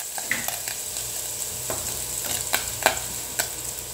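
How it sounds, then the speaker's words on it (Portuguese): Garlic sautéing in a pan for a fish-roe dish cooked in coconut milk, a steady close sizzle broken by scattered crackles and a few stirring scrapes, with no talk. "Vamos começar refogando o alho."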